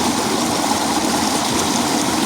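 Water gushes steadily from a solar-powered tubewell pump drawing from a bore, a loud, continuous rushing roar with no pauses and no voices.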